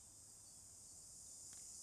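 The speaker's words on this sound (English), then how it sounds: "The cicadas are coming. Um, they sound so nice." Cicadas give a faint, steady high-pitched droning chirr that runs unbroken throughout, with a soft brief tick near the end.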